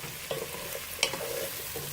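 Vegetables for cauliflower soup frying in a pot, a soft steady sizzle with a couple of sharp scrape-and-stir knocks from a spoon, fairly quiet and close.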